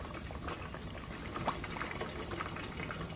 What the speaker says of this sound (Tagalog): pag malamig na, pwede nang i-deep fry